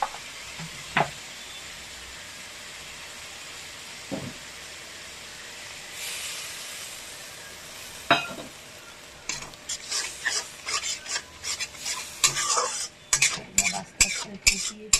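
Fish curry in oil and water in a pan, with a faint simmer under the sound of a utensil knocking and scraping, building to busy clattering stirring toward the end.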